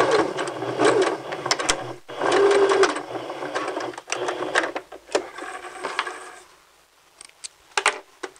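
A sewing machine stitches a pocket piece in loud, close bursts of rapid mechanical whirring, pausing briefly between runs and tapering into slower, lighter stitching with quieter gaps toward the end.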